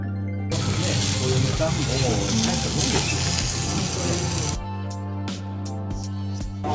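Wagyu beef sizzles loudly on a hot cooking surface in Japan, a dense steady crackle lasting about four seconds and then cutting off abruptly, with a steady tonal background underneath throughout.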